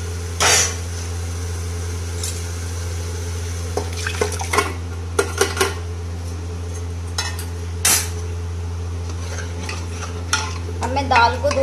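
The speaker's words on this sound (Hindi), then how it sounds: "तो अब मैं इसमें दाल ऐड कर दूंगी।" Lentils stirred into a mashed tomato and curry-leaf tadka in a pan at home, with repeated scraping stirs and soft sizzling over a steady low hum, plus a few sharp clinks of the spoon against the metal.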